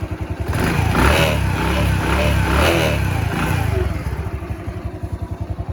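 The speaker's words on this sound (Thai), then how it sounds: "ลองเบิ้ลให้ฟังนะครับผมฟังเสียงเครื่องนะ" A 2020 Ryuka Classic 110cc motorcycle's engine is revved close by, a loud rumbling blip that swells and holds, then settles back into a steady chugging idle with rhythmic pulses.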